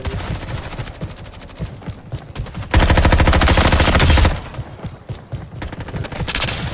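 Automatic weapon fire rattles in the Roblox shooter Frontlines. Scattered shots give way to a long, loud sustained burst of rapid fire lasting over a second, then quieter intermittent bursts, with no voices.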